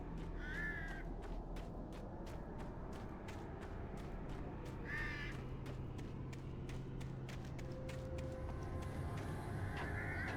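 Crows caw in the Alan Wake video game, a few harsh calls spaced apart over a steady low ambient rumble with brief clicks, no voices over them.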